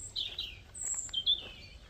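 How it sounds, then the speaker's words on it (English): A bird sings in a few short, high chirping phrases close by, alone and clear on a coastal walking route. "this bird is singing to us"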